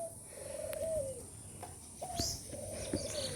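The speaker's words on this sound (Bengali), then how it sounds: "দেখো আমার কবুতরগুলো" Domestic pigeons coo nearby in soft, repeated throaty calls, three or four in a row, with faint chirps and light clatter in the background.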